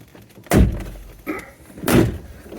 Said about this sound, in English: There you go, door card is now off.